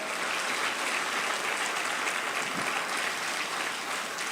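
A church congregation gives sustained applause, a dense, even wash of many hands clapping at once that holds steady for several seconds with no talking.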